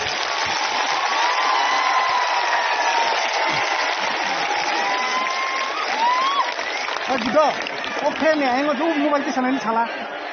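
Audience at a live show for a senior singer breaks into sustained, loud applause mixed with cheering and crowd noise, with a voice talking over the clapping toward the end.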